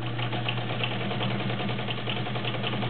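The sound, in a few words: vintage Kenmore 1207 sewing machine stitching through layers of denim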